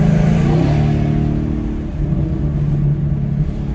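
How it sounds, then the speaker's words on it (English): Deep exhaust rumble from a 2022 Ford Mustang GT fitted with an X-pipe, a loud steady close drone that eases off slightly after an initial rev while cruising. "A little more rumble to it."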